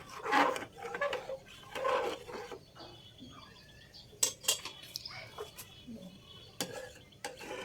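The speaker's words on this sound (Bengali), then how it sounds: "চিনি দিয়ে ভালোভাবে মিশিয়ে নিচ্ছি।" A spoon scrapes and clinks against a pan as sugar is stirred into a flattened-rice (chira) dessert, in uneven bursts of rubbing strokes and sharp taps, close and fairly quiet.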